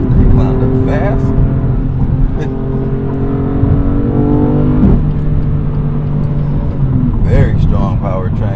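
A BMW M2's turbocharged inline-six pulls hard from around 55 mph, its engine tone climbing steadily through the gears. The drone stays loud and close throughout, with someone talking over it.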